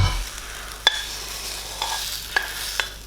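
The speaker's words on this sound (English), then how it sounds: "Can you hear those? Still sizzling away." Scallops sizzle steadily in a hot pan, a soft continuous crackle broken by a few sharp clicks and taps.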